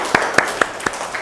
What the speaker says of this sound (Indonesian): yuk tepuk tangan untuk kita semuanya